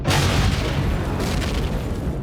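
Rapid booming turret gunfire in the sci-fi survival game Empyrion Galactic Survival, a dense continuous barrage of loud blasts and rumbling impacts.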